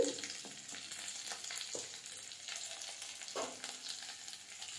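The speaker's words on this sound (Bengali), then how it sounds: "ভালোভাবে এটা ভেজে নেব যাতে কাঁচা গন্ধ চলে যায়।" Ginger and chili paste with a pinch of asafoetida fries in hot oil, giving a continuous bright sizzle broken by a few sharp spatula scrapes and taps against the pan.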